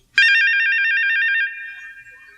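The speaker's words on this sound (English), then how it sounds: "That sound is there to tell you when to turn the page in your book." A bright electronic chime on a Sesame Street Big Bird read-along audio cassette signals the page turn, a single warbling ring sounding alone for about a second before a softer tone lingers and fades.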